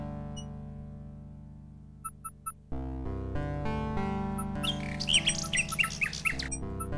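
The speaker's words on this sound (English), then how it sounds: "Do I have anything I could give that bird?" A bird in the King's Quest video game squawks in a series of short, sharp, repeated calls over steady game music, loud and close, with a few electronic chimes earlier on.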